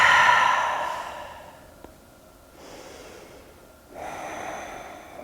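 Slow, deep breathing during a seated Gomukhasana yoga pose: a long, airy exhale fading over two seconds, then softer inhale and exhale breaths close to the mic, with no talking.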